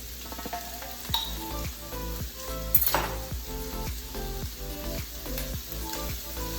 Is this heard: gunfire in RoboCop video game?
no